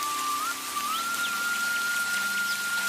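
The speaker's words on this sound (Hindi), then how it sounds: "अचानक बूंदें गिरने लगीं, पहले आहिस्ता आहिस्ता," Rain falls in a steady, dense hiss at an even loudness, with a thin sustained whistling tone running over it.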